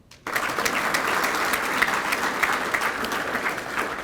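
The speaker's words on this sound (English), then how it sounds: "so if we get a round of applause for him, please" Audience applause at a military guest-speaker event fills the room after a brief quiet start, a dense, steady wash of many hands clapping that holds loud for about four seconds.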